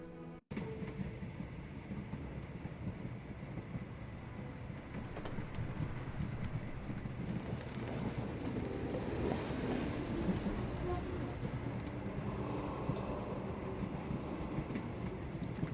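A train travelling in the video game Sherlock Holmes The Awakened: a steady, dense rumble of rolling carriages with faint rhythmic clatter, loud and continuous after an abrupt start.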